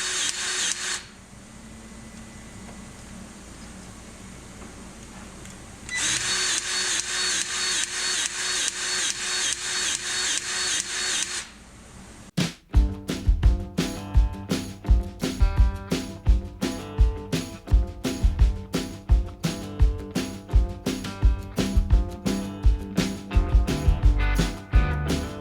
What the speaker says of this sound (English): This thing just pumps grease like it's nothing.